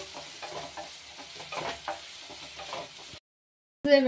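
Onions with freshly pounded ginger and garlic fry in a pan, soft sizzling with repeated stirring scrapes up close, then a brief silence.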